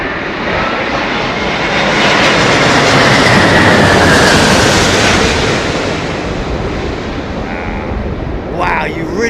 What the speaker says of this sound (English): Wow, you really get to hear the vortex here, man.